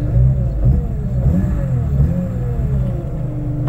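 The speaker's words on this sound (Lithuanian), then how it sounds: "Iš karto girdisi, kad rimtas varikliuksas." A BMW E30 engine rumbles close by, revving in a few short blips that rise and fall over a steady low idle, with no talking.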